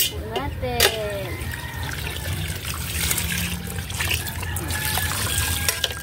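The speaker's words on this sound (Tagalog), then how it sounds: "At lagyan ng sabaw." Broth poured over boiled beef bones and skin outside a house, a trickling, splashing stream of liquid running for several seconds while voices talk in the background.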